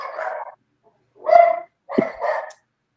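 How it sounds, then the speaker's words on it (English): Puppies yip and bark in short bursts close by, three or four high-pitched barks separated by brief pauses. "your puppies are talking."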